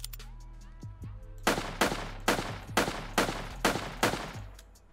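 Six sharp, evenly spaced pistol shots from a FEG PA63 in a modded Unturned game, loud and close with short decays, opening after a couple of faint clicks and a low steady hum.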